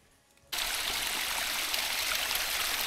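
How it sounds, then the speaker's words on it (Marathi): Small monsoon waterfalls and streams at Tringalwadi Fort: after a brief quiet moment a steady, full rush of flowing and splashing water starts suddenly and carries on close and loud. "छोटे छोटे धबधबे सुरू झालेले आहेत, कारण आजच पाऊस लागलो."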